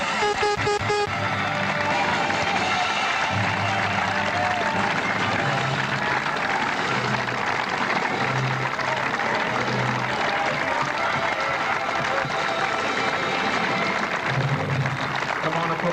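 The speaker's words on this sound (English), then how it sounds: "he deserves your applause because he's earned it" A stadium crowd applauds and cheers at the 1984 British Senior Individual speedway final as riders take their lap of honour, a sustained dense roar under a public-address announcer talking over it.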